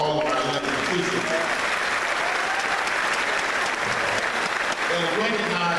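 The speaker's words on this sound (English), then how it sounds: "Let's get a round of applause for all of our elected officials" Sustained applause from a large crowd at a community faith assembly, honoring the elected officials present, with clapping loud and continuous throughout and voices mixed into the crowd noise.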